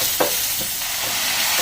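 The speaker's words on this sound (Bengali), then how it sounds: "ভালো করে আবার একবার মশলা নেড়ে চেড়ে ভেজে নেব।" Ground spices including cumin and coriander powder frying in a pan for chicken samosa filling, a steady loud hiss with a couple of brief spatula scrapes, close up and without speech.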